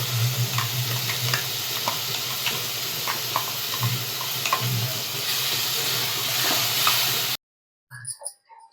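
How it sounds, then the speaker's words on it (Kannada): Ground masala sizzles in hot oil for a mutton head curry, a steady frying hiss with stirring scrapes, then a short break and a brief final clatter. "ಆಗಲೇ ಇದು ಫ್ರೈದು ಮಸಾಲ ರುಬ್ಕೊಂಡಿದ್ರಲ್ಲ, ಅದು ಬಿಡ್ತಾ ಇದ್ದೀನಿ ಈಗ."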